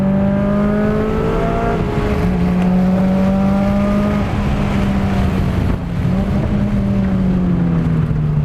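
A modified 2001 Subaru STI making 420 wheel horsepower runs hard on a race track, its engine droning loud and close with steady, sustained pitch and small rises and dips as the car drives on.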